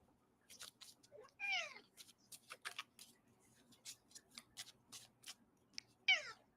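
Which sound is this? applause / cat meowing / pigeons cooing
cat meowing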